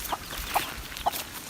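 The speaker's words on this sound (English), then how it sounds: "you can see the hens with the chicks" Free-range hens with their chicks cluck on a homestead in Zimbabwe. Four short, evenly spaced clucks come over a quiet outdoor background.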